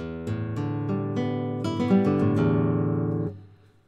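Plucked flamenco guitar notes ripple quickly upward across the strings in a short, uneven arrastre arpeggio, ringing close and clear before fading out.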